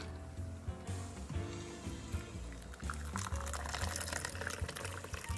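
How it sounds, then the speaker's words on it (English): A Southside cocktail strained from a shaker into a glass, a close trickling pour with light splashing and clinks of ice, building slightly toward the end. "Time for the pour."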